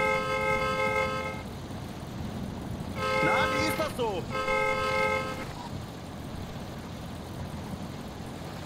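A car horn in The Long Drive video game honks in three long sustained blasts, loud over steady engine rumble, while people talk in German.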